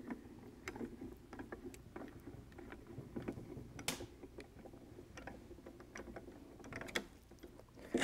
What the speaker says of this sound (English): you're going to load it into your machine, crank it through